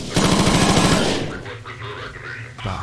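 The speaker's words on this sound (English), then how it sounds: "the guns sound loud and have decent recoil" Rapid automatic gunfire from a gun in a Half-Life 2 mod game rattles loud and close for about a second, then trails off into echoing reverb and scattered game sounds.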